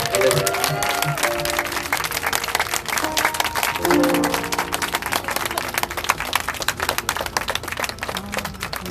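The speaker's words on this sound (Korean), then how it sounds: "박수로 하나님께 영광을 돌리고 돌아가 도록 하겠습니다." A church congregation applauds at the end of a service, a dense, steady clapping that runs the whole stretch while voices and tonal sounds carry on over it.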